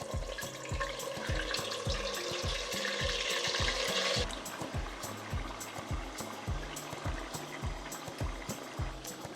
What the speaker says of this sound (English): we'll add in our chunks of pork